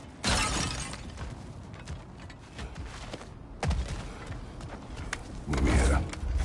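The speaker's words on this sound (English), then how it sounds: "back to smashing through things for fun and profit." In God of War Ragnarök, objects are smashed several times with crashing, shattering impacts spread over a few seconds. Each impact breaks through a low background of game ambience.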